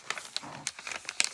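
Dry ledger paper crinkling and rustling in quick, irregular bursts, close up and fairly quiet, with no talking.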